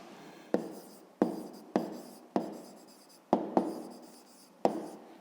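A pen scratches out a fifth-grade math answer by hand on paper, with seven or so short, crisp strokes in an uneven rhythm, close and quiet in an otherwise silent room.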